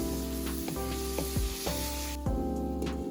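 Garlic, onions and sliced tomatoes sauté in a covered pan with a steady close sizzle, joined by a few soft clinks and scrapes, and no one speaks.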